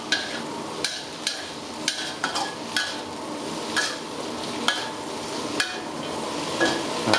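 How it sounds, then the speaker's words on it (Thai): Metal spatula scraping and clanking in a wok as mixed vegetables, including three colours of bell pepper, are stir-fried for a cashew chicken dish; quick irregular knocks over a steady sizzle, fairly close. "ผัดตะโครู่นะครับ เพื่อให้ผักต่างๆสลดก่อน"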